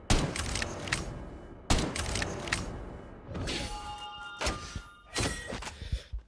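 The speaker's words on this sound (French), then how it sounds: "Il fait une sorte de formule magique pour recharger l'arme." Reload of the Lotus de Flamme gun in Call of Duty Mobile, a series of metallic thunks and clacks in bursts, with a shimmering magical tone mixed into the later part.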